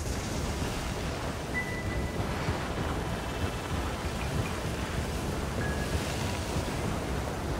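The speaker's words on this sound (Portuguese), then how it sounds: "fomos surpreendidos por uma forte tempestade de areia" Strong sandstorm wind blows in a continuous, loud, roaring rush that buffets the microphone without letup, with no voices.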